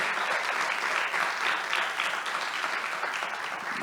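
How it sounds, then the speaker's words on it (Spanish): An audience at a literary author event claps steadily for new voices, a sustained even burst of applause at moderate distance that carries on without a break. "un aplauso para estas nuevas voces"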